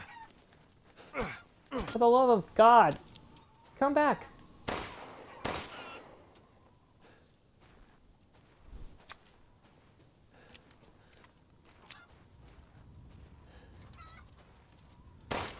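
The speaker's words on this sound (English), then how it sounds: "3 chickens that we gotta take out." Chickens in the video game Resident Evil Village squawk and cluck in several sharp, close bursts early on, mixed with loud gunshots. Someone speaks briefly, and the rest is quieter with scattered clicks.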